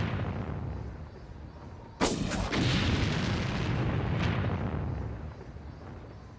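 Mortar fire in Far Cry lands as one sharp, loud blast over steady low ambience, followed by a rumbling tail and a second smaller burst a couple of seconds later.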